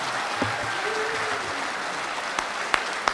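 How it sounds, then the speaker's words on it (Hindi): Audience applause at an international mushaira in Bahrain greets a poet taking the stage, a steady wash of clapping throughout with a few sharper individual claps standing out near the end. "मैं चाहता हूं कि पूरा सदन हाथ उठाकर जोरदार तालियों के साथ"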